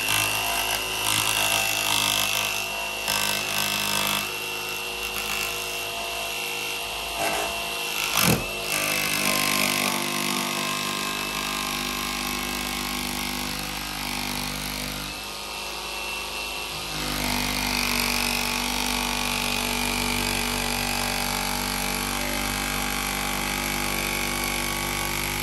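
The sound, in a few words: jigsaw cutting through van roof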